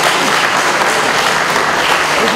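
An audience at a French senior doubles and women's singles pétanque championship applauds, with dense, steady clapping filling the space. It is loud and continuous from start to finish.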